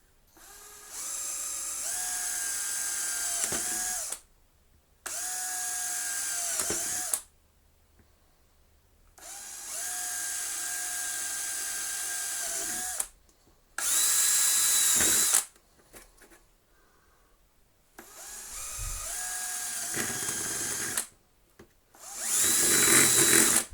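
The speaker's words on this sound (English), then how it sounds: "What was all that drilling for?" A power drill whirs in several bursts of a few seconds each, with quiet pauses between them, close and loud.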